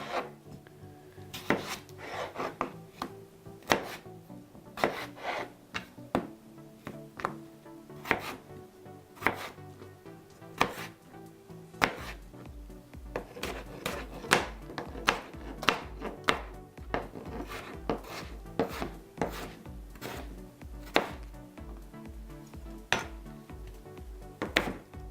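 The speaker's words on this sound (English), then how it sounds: "now we're going to cut up our potatoes into nice little bite-sized chunks" Potatoes chopped into bite-sized chunks on a wooden board, a long run of crisp knife thuds, some quick and steady, others spaced out, close and clear.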